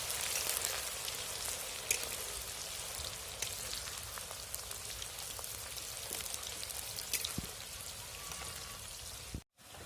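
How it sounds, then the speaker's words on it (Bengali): Onions frying in hot oil with bay leaf for a Bengali-style chicken curry, a steady, fairly quiet sizzle and crackle that runs continuously with no voices. "পেঁয়াজটাকে পুরো লাল লাল করে ভাজতে হবে।"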